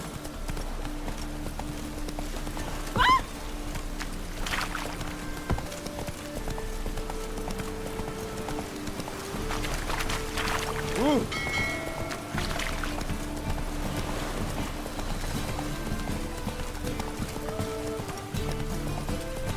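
A horse in The Witcher 3: Wild Hunt gallops at a steady pace, its rhythmic hoofbeats running continuously at moderate volume beneath game music, with a brief whinny early on.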